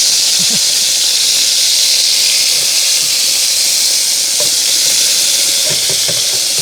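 Burger patties frying on a camp stove during a car camping trip, a loud, steady sizzling hiss that fills the whole stretch, with a few faint pops and crackles and no voices.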